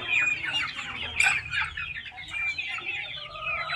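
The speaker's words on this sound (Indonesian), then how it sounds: "rupanya ayamnya terpancing dengan bau pakan racikan kita. Ini sudah pada menunggu mereka." Free-range village chickens cluck and chatter together in a dense, steady chorus close by while waiting for mixed homemade feed, with no talk over them.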